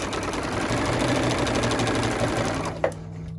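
A domestic sewing machine stitching the back of a fabric luggage tag, running steadily and loud at close range with a rapid even needle chatter, then stopping with a short clunk near the end.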